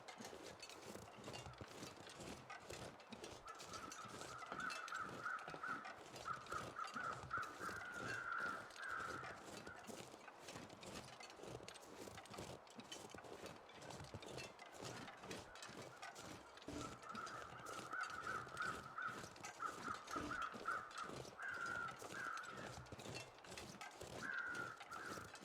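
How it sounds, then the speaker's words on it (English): Crows caw in repeated bursts over a steady windy ambience in the survival video game The Long Dark, two clusters of calls a few seconds long, moderately distant, with no talking. "Alright, so some crows circling there."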